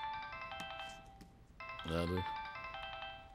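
A mobile phone ringtone plays in a steady, fairly loud electronic melody indoors, pausing once before resuming, while a man briefly asks a question over it.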